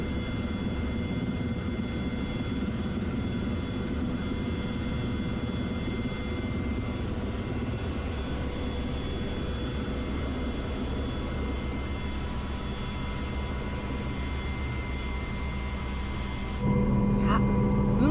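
Inside an MCH-101 helicopter flying over Tokyo toward a heliport, a loud, constant engine and rotor drone fills the cabin, steady throughout with a brief shift in tone near the end.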